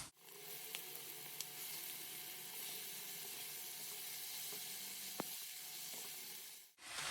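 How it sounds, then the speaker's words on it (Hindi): Chopped spinach greens sizzle and hiss steadily in a pan of frying tomato masala as they are stirred in, a continuous close frying sound with a few faint clinks. "इस टाइम पर मैं इसमें ऐड करूँगी साग को"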